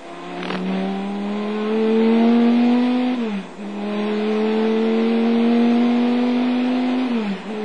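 A Chrysler Viper GTS-R race car at the 1999 Le Mans 24 Hours, its engine note falling as it brakes for the Mulsanne corner, then climbing again under hard acceleration. The steady loud drone shows two brief downshift dips.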